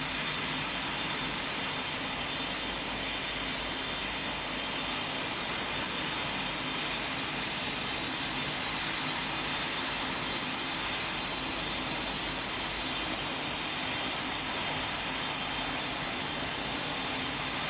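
Steady, even roar of an airliner on final approach in Roblox Pilot Training Flight Simulator, a broadband jet-engine rush held at constant loudness throughout with no voices.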